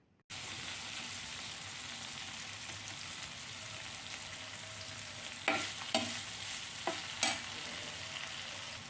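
Ginger chutney with curry leaves and tamarind sizzles steadily in a pan, a soft continuous hiss broken by a few sharp scrapes of the spoon toward the end.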